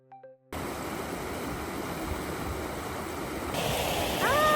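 Shiraito waterfall in Japan in snowy winter, a broad continuous roar of falling water that starts abruptly and holds steady, with a brief faint tonal sound near the end.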